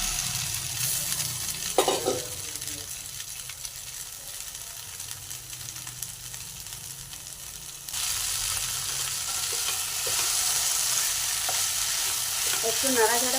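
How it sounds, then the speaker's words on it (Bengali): Whole wheat flour chowmein being stir-fried in a pan, a steady sizzle with scraping stirs and occasional clanks of the utensil, growing louder and hissier partway through, close and with no talking. "এবার আটার তৈরি চাউমিনটা দিয়ে দেবো"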